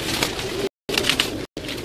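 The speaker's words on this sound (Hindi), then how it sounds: "ये कबूतर है" A gifted prince pigeon coos in short repeated bursts up close, broken by two brief silent gaps, with no voices.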